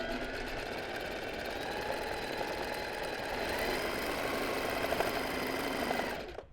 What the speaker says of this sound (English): Let me show you now how you can set up the Singer Heavy Duty to do free motion embroidery.